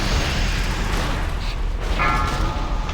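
Cannons boom in a World of Warcraft ICC raid, heavy repeated blasts over dense, loud game din with a continuous rumbling battle backdrop.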